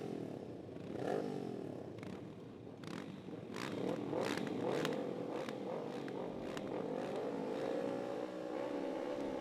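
Several MotoAmerica Junior Cup racing motorcycle engines rev loudly together on the grid at Pittsburgh, a steady high whine with rising pitch sweeps and brief blips, no talking.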